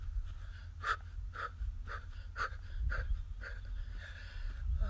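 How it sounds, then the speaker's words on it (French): Forceful breaths pushed out in a steady rhythm while jumping in place during an outdoor morning workout in the sun, about ten regular, evenly spaced exhales close to the microphone over low background rumble. "Et vous essayez de bien souffler en même temps."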